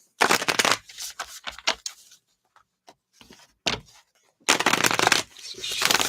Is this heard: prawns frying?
no